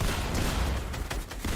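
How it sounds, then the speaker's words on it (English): Gunfire in the Fortnite video game during a competitive collegiate match, a dense, sustained barrage of shots crackling loudly and continuously with a few sharper bursts toward the end. "So much gunfire."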